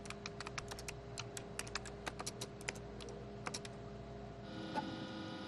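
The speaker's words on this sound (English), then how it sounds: "The man tried the keyboard." Keys on a Toshiba laptop are pressed in quick, irregular clusters of light, crisp clicks, close and fairly quiet over a faint steady hum, before a brief soft rustle near the end.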